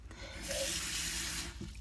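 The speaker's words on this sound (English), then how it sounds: "going to fill this with a little bit of water just in case" Water runs from a tap into a container for painting clean-up, a steady close splashing rush that stops near the end.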